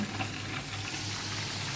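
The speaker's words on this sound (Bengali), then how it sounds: "এখানে আবার কিছু ভাজা পোড়া করবো এটা চিপস দিয়ে দিচ্ছি চিকেন গিরি ভাজা করবো" Chicken pieces frying in a pan give a steady, moderately quiet crackling sizzle with a low hum underneath and no talking.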